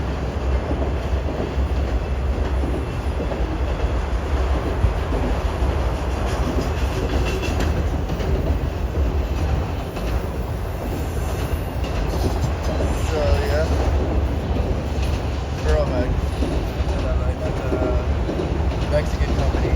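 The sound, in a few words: CPKC Canadian Pacific auto train passing on rails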